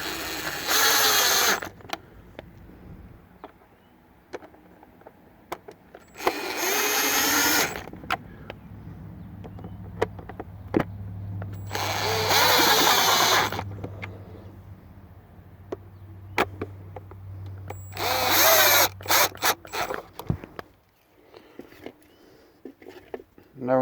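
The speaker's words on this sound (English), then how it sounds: "Now you're going to reinstall the screws on the back of the gauge cluster." A power driver runs screws back into the back of a Ford gauge cluster in four whirring bursts separated by pauses, with clicks and handling clatter in between.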